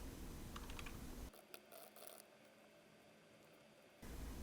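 Quick, light tapping on a computer keyboard while subtitle text is entered in a video editing program, close and soft, with clustered keystrokes in the middle between brief pauses.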